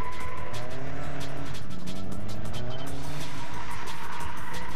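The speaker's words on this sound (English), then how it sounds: "this dude is drifting my car" A car drifting at a NASA Virginia drift event in a mall parking lot: the engine revs hard while tires squeal and skid continuously, loud and close, with shifting whining pitches throughout.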